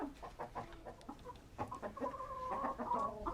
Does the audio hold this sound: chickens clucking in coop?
yes